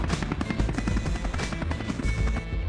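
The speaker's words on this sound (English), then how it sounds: "getting picked up from a Coast Guard helicopter" A Coast Guard helicopter hovers over the surf near a surfing contest, its rotor producing a loud, continuous thumping chop with a heavy low rumble and a steady whine.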